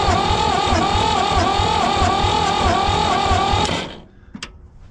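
A 1960s diesel tractor that sat unused for about 20 years is cranked over by its starter, a loud steady rhythmic churning for nearly four seconds before it cuts off, followed by a short faint click in the quiet.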